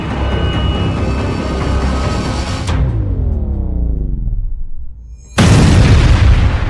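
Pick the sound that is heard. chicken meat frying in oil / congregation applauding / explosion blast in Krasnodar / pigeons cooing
explosion blast in Krasnodar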